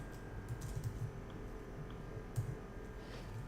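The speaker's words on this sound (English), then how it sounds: "we're going to type ordered list again, li again, title." Fingers type HTML code on a computer keyboard, a quiet burst of close key clicks followed by a few scattered taps, with no speech.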